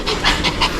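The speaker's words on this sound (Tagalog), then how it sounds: "Nakakatawa itong mga aso na ito eh" Dogs pant loudly and close by in a quick, steady rhythm of huffing breaths, with no speech over them.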